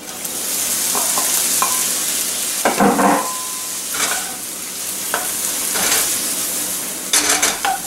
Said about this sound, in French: Je vais les faire griller un peu. Mon jambon commence à bien griller.